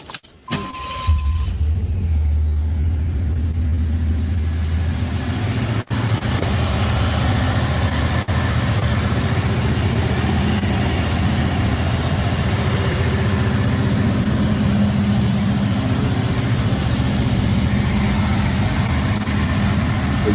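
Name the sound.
1988 IROC Z muscle car engine starting and running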